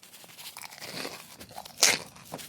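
A bite into a flaky pastry from a bakery gives a sharp, close crunch about two-thirds through, with softer chewing and crackling before and after it and no speech.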